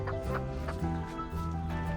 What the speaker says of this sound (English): Crazy chickens.